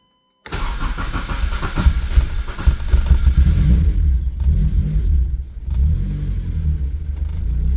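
A Mazda RX-8 with a swapped Honda K24 engine cranks and catches after a brief silence, then roars and revs loudly before settling into a rumbling idle with another rev.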